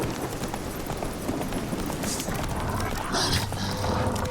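Roach the horse galloping in The Witcher 3, a steady rush of rapid hoofbeats under game ambience and music, with a voice talking partway through.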